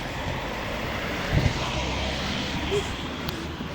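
A fixed-wing airplane drones steadily overhead outdoors, its broad engine rumble filling the whole stretch at moderate loudness, with a brief voice and faint rustling near the middle.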